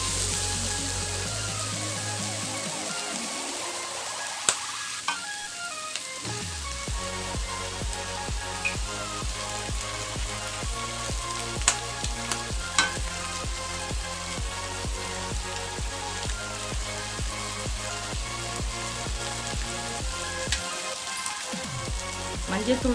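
Egg cracked over cooked broad beans (avarakkai) in a pan gives a steady, close sizzle with occasional stirring clicks and faint tonal sounds underneath.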